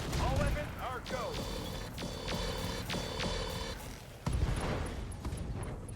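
Mech weapons in the RogueTech battle game fire in a rapid volley of repeated sharp bursts and whining energy shots, with a heavy impact and metallic rumble, mixed with game sound effects.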